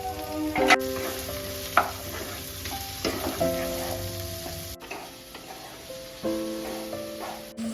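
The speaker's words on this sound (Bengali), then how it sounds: "আমি একসঙ্গে ভেজে নেব আলুটা পেঁয়াজের সঙ্গে" Potatoes and onions fry together in hot oil, giving a continuous sizzle broken by the clatter and scrape of a utensil stirring the pan.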